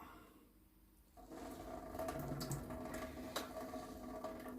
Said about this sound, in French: je vide l'eau